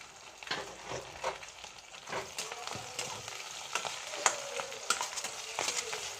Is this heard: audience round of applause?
no